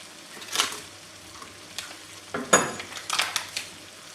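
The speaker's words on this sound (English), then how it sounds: "make a gap in the middle of the pan and put some butter in" Butter melts for caramel in an Emile Henry tarte tatin pan, giving a soft sizzle broken by a few sharper crackling bursts and light scraping, close and moderately quiet.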